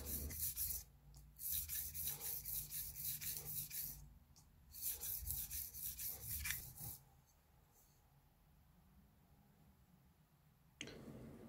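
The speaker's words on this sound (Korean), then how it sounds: "첨번 사포로 옮겨서 작업을 진행합니다" Rhythmic scraping strokes of a shoemaker's knife rubbed on fine sandpaper, several quick back-and-forth bursts, then a quieter stretch with faint rubbing.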